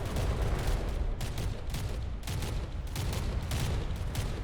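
Big battleship guns in From the Depths fire in a steady series of heavy booms over a constant rumbling background, with no talking.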